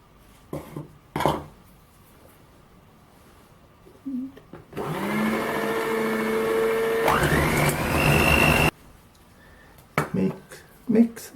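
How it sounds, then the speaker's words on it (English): An electric mixer whirs steadily for about four seconds while creaming butter and sugar for a fruit birthday cake. Its motor pitch rises partway through, and brief clatter and knocks come before and after it. "Beat the butter and sugar to a cream."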